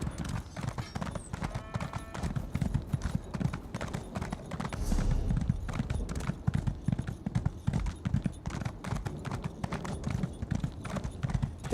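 Horse hooves clip-clop in a steady, brisk rhythm in an Elder Scrolls game, close and fairly loud throughout, with faint ambient sounds beneath.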